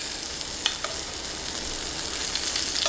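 Seared scallops basted in a hot pan give off a steady close sizzle with faint stirring scrapes, with no voices over it.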